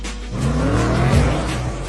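A car engine revs hard as the car is driven in a film scene. The loud, continuous roar climbs in pitch, with a faint hint of tire noise and no talking.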